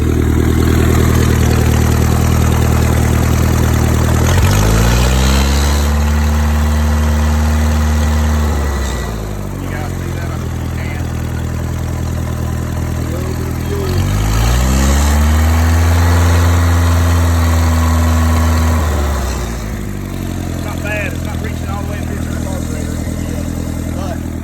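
A Mercruiser 3.0 boat engine with a bad fuel pump idles loudly and close, its low rumble rising and falling in two slow swells as the throttle is blipped, with someone talking over it.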